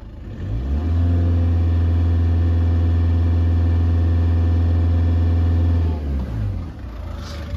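A car engine climbs quickly and holds a steady, elevated rev between 2500 and 3500 rpm for about five seconds during a battery test, then drops back toward idle.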